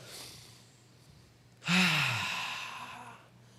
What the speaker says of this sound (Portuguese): dá aquela respirada bem fundo, faz assim